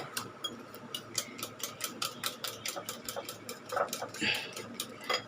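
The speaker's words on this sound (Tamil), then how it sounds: "மசாலாலாம் போட்டுடலாம். அதையும் போட்டு எல்லாம் மிக்ஸ் ஆகிற மாதிரி ஒரு அடி அடிச்சுக்கோங்க அப்பப்போ" Eggs with salt and masala being beaten by hand in a bowl, a steady rapid clicking of utensil against the rim, moderately close, with some faint background noise.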